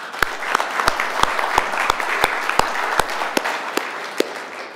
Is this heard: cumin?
no